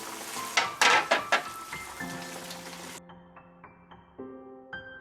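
Yellow croaker fish hitting a hot pan of bean paste sauce and water, a few bursts of loud crackling sizzle up close for about three seconds, then the sizzle cuts off and a clean ringing tone follows.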